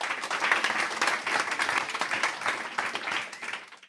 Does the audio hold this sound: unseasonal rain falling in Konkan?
no